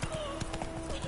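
Hooves clip-clop in a brisk, even rhythm as a horse trots in The Witcher on PS5, close and steady over a low game ambience, with a voice speaking over the hoofbeats.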